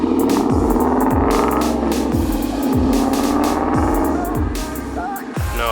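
A 2014 Ford Mustang with a new Steeda clutch spring drives past, its engine a steady loud rumble with repeated rising revs through gear changes for several seconds, no talk.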